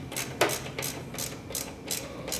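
Wrench ratcheting in short bursts while tightening a rear crash bar on a 1938 Harley-Davidson Knucklehead, a steady series of close, crisp clicks repeating about every half second.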